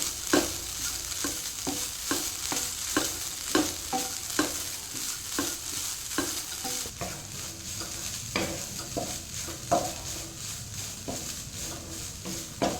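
Jackfruit seeds frying in ghee while being stirred, a continuous sizzle broken by regular scraping strokes of a spatula against the pan, close and moderately loud, no voices.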